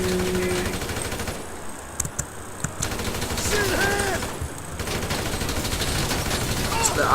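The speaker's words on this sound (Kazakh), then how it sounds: "Атып жүре аламыз бәрін енді." Gunfire in the video game GTA V, bursts of shots crackling over a steady game soundscape for several seconds with no pause for talk.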